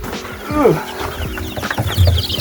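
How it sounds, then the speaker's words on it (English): Baby chicks of mixed breeds, Rhode Island Reds, Barred Rocks, Cochins and Bantams, peep and chirp close by in a brooder, with short overlapping calls and some low rustling. "Baby chicks, everyone"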